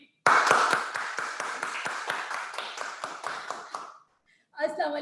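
A small audience claps steadily and close for about four seconds, with evenly spaced sharp claps, before the clapping stops and a voice begins speaking.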